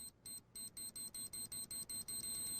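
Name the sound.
beeping getting faster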